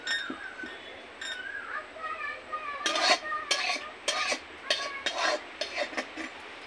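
An iron kadai set down on a lit stove, heard as a series of close metallic clanks and scrapes, sharp and irregular, over a faint low hum, with faint voices in the background.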